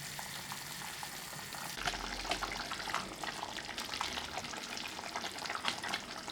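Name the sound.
kohlrabi and sweet potato soup simmering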